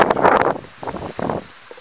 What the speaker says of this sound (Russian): с одной стороны сильный ветер дует